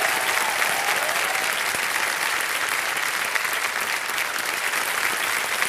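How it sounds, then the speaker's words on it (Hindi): Steady, loud applause from a studio audience on a children's TV quiz show, a junior edition of KBC, with continuous dense clapping and no talking over it. "चेक आ गया इनके नाम, तालियां बज जाए जोरदार।"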